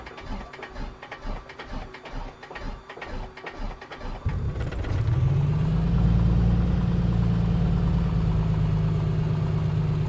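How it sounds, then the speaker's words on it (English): A simulated aircraft engine starting in Microsoft Flight Simulator 2020: rhythmic cranking chuffs for about four seconds, then the engine catches and settles into a loud, steady low drone that runs to the end. "successful engine start."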